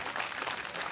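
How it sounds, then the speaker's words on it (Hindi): A seminated burst of audience applause, dense and continuous clapping filling the whole moment at moderate loudness with no pauses. "तालियां बजनी चाहिए अपनी इस मेहनत के लिए।"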